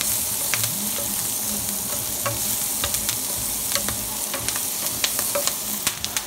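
Onions sautéing for New Orleans-style fried liver and brown gravy, a steady close sizzle with repeated sharp scrapes and clicks of stirring building toward the end, no voices.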